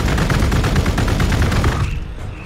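Rapid bursts of gunfire from units in the strategy game Warhammer 40,000: Gladius, a loud close fusillade of overlapping shots that cuts off abruptly near the end.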